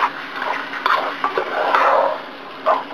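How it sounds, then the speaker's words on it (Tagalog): Chicken and ginger being sautéed in a pan, heard as close scraping and stirring against the metal with light clinks and a soft sizzle underneath, with no speech. "So, gigisa lang natin yung chicken at saka yung ginger together."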